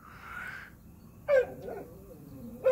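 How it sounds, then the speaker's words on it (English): A dog gives a couple of sharp, high yips or barks at a distance outdoors, spaced apart over a soft background with a brief tonal hum at the start. "I hear the dog barking"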